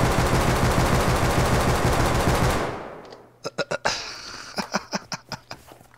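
An LR300 assault rifle in the game Rust fires a loud, rapid automatic burst for a few seconds, then a few sparse single shots and clicks follow.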